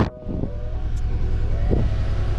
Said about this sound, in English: I'm running it right now. You're probably not going to get it on the camera, but it's running extremely rough.